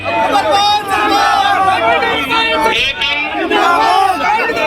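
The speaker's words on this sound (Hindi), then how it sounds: "जनता की भीड़ ने उनका जोरदार स्वागत भी किया।" Loud crowd cheering and shouting in welcome for Pandit Amarpal Sharma at a Brahmin gathering in Loni, a dense continuous hubbub with voices rising over it throughout.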